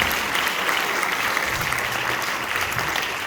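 Sustained applause from a school concert audience for a trumpet soloist at an end-of-year high school concert, a continuous even patter of many hands clapping at moderate level with no talking on top.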